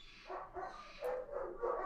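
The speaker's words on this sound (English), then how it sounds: "There goes the dogs. See, my dogs are mad." Several dogs bark and yip at a distance in a quiet setting, a few irregular bursts over about two seconds with no talking.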